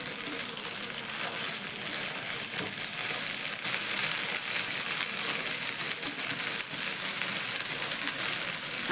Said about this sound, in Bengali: 2 সাইড কিন্তু এইভাবে লাল লাল করে ভাজা হয়ে গেছে।